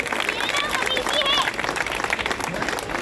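Dense, steady applause from an audience at a Women's Day street play, cheering on two young twin girls, loud and continuous with some voices mixed in.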